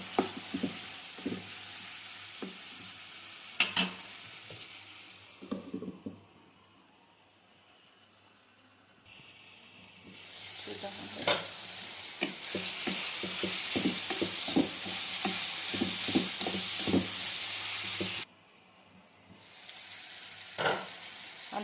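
Ridge gourd curry fries steadily in a pan with a close, constant sizzle, broken by clustered scraping and clacking strokes as it is stirred and then left to sizzle again between the bursts of stirring.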